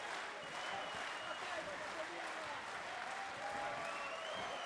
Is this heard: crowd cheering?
yes